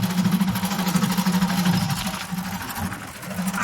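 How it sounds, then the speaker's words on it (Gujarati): A tractor engine runs at idle on a farm field during harrowing. It throbs steadily and close by for a few seconds, with no talk over it. "ટ્રેક્ટર આપણે આંકશું।"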